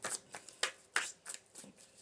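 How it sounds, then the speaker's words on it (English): A deck of tarot cards being shuffled by hand, a quick run of crisp riffling bursts and soft slaps in an uneven rhythm, close and fairly quiet, with no talk. "Give this a little quick shuffle since I just used them"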